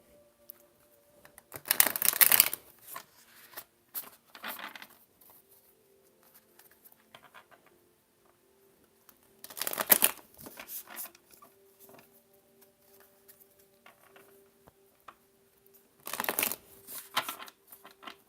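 Tarot cards are shuffled in three separate, fairly loud bursts of flapping, with faint taps and card handling in the quiet gaps between.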